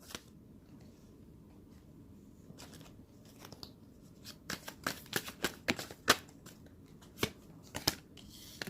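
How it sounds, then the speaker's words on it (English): A deck of cards is shuffled by hand, first in sparse soft riffles, then in a quicker cluster of sharp flicks and taps, close and quiet, with no speech. "let me give a few more shuffles here, Leo."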